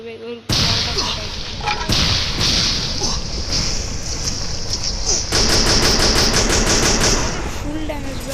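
Shotgun blasts in a video game: loud, sharp, repeated shots crack over a noisy, continuous background of game audio and excited voices, fired in quick clusters throughout.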